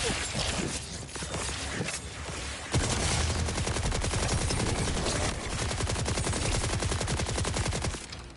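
Rapid, sustained automatic fire from an assault rifle in the Borderlands video game, loud and continuous after a brief lead-in of other game noise, with the bursts running almost unbroken until the end.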